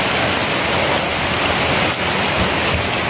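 Heavy rain pours down and floodwater rushes through a dark, deepening tunnel, a dense, loud, continuous roar with no voices.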